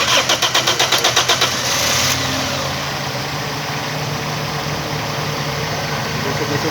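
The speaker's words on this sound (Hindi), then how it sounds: "गाड़ी हमने स्टार्ट कर दी है और चेक करने के मिसिंग कर रही कि नहीं कर रही" A Toyota Corolla engine with a faulty ignition coil cranks in a quick rhythmic burst, catches, and settles into a steady, uneven idle with a misfire, close and fairly loud with no talking.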